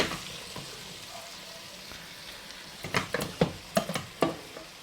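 Cooked pasta is tipped into a pan of hot sauce on the stove: a soft sizzle first, then a cluster of wet slaps and clatters near the end.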